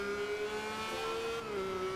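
Engine of a car in Forza Horizon 2, held at a steady high-revving drone throughout with a slight pitch drop partway, loud and close with no talk over it.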